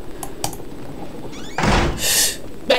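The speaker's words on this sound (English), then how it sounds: "Let's close this door." A door in the Outlast horror game swings shut with a solid thunk, followed by a brief creak and a second rattling knock, with a short scrape near the end.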